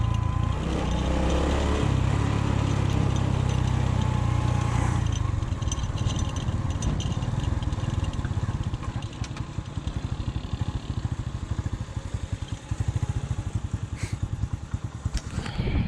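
A motorcycle rolls slowly downhill in first gear on a mountain road in Swat Valley. Its low engine drone and steady putter stay close and loud under constant wind rush.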